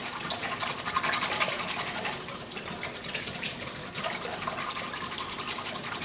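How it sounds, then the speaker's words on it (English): A whisk beats milk into pudding mix in a bowl with a fast, continuous scraping and swishing up close, steady for several seconds with no talking. "I'm just going to whisk that up to make it nice and"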